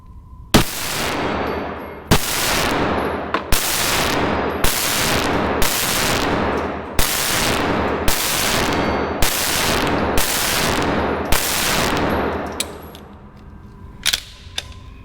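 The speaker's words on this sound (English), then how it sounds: "All right, so let's do some shooting." Sharp, loud gunshots from a Springfield XDm Elite 9mm pistol, about ten evenly paced shots fired one after another at close range, each ringing briefly before the next, with no talking.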